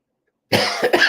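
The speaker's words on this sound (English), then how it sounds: "That cough says otherwise." After a moment of silence, a person lets out a short burst of harsh coughs, close and loud.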